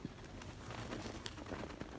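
Pigeons from a flock of pet birds coo softly in a low, rhythmic murmur through the two seconds, with faint shuffling and light taps around them and no talking.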